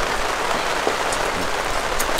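Heavy rain pours steadily during a rainstorm, a dense, even hiss of drops striking surfaces, close and continuous with no talk.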